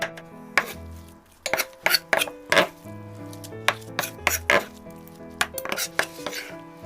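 Knife mincing salted shrimp on a cutting board for Korean kimchi, sharp irregular chopping thuds and clacks up close with ringing kitchen clatter, no voices.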